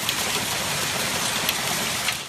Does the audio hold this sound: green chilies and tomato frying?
no